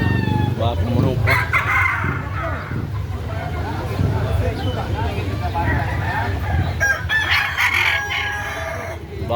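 A rooster crows loudly and repeatedly at a chicken sale, with hens clucking nearby while people bargain and chatter in the background.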